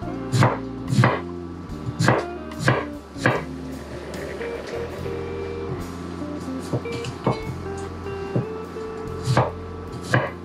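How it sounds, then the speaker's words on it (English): A knife chops through watermelon on a board in sharp, evenly spaced thuds, grouped in quick bursts with brief pauses, close and clear with no talking. "So just cut your watermelon."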